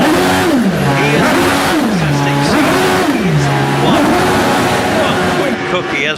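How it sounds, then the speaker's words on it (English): Will Hall's hillclimb race car at Shelsley Walsh does repeated burnouts: a loud engine revs up and drops again in rising and falling sweeps, with tyre squeal and commentary running underneath. "5 burnouts there from Will Hall on the way to the line."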